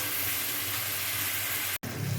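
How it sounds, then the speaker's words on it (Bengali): A spiced potato mixture with chopped green chilies is sautéed in oil in a pan, giving a dense, even sizzle that cuts out for a moment and resumes, with no voices. "এটাকে এখন আমি ভালো করে সুন্দর করে কষিয়ে নেব।"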